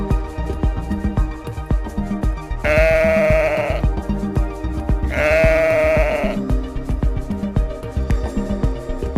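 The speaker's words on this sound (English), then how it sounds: "The sheep says" Farm sheep bleating loudly and close, two long drawn-out calls of about a second each, separated by a short pause, over a busy musical backing with no talking.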